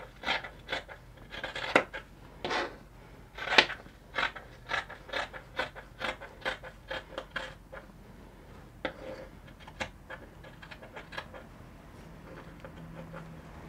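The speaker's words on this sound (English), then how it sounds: "So I just cut off my dart." Scissors snip steadily through a fabric pattern, cutting off a dart for a back yoke with a keyhole: a quick series of crisp, close cuts, evenly paced, then thinning to sparser snips near the end.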